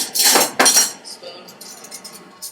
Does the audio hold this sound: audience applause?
no